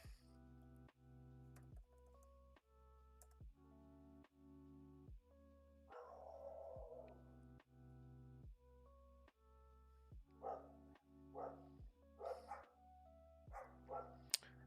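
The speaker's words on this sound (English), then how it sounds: "My dog's out there barking," A dog barks outside in the background, faint and distant, with several short bursts clustered in the second half over a steady, evenly repeating pattern of tones.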